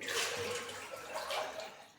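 Water sloshes and splashes in short swishing bursts as muddy ambadi (roselle) leaves are swirled and rinsed in a bowl, close and moderately soft.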